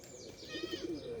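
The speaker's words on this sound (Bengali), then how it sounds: "গোবিন্দ কবুতর চিনেন" On a clean, rain-washed rooftop, a Gobinda pigeon coos in a brief rhythmic burst of four or five low notes. Fainter high chirps and whistles from other birds sit behind it.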